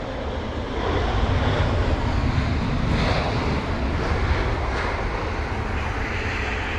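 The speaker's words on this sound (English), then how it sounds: "And there's the BA jet once again, 27 right for its arrival." A British Airways jet arrives on runway 27 right at London Heathrow during Storm Henk, its loud broadband engine roar steady and sustained amid windy conditions.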